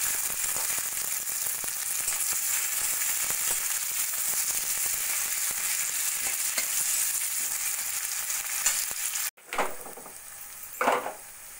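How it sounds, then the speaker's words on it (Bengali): Chopped garlic, green chilli and a medium onion sizzle loudly in a pan, a dense continuous frying hiss that stops abruptly near the end, followed by a couple of short clatters. "এবার দিয়ে দেবো 4-5 কোয়া কুচিয়ে নেওয়া রসুন, কুচিয়ে নেওয়া কাঁচা লঙ্কা আর একটা মিডিয়াম সাইজের পেঁয়াজ।"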